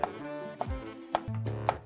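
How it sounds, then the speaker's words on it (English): A knife slicing a seeded, washed pepper into rings for fish soup, four crisp evenly spaced cuts against a board, close and clear with no talk. "We remove all the seeds from pepper. We wash it and slice it in rings."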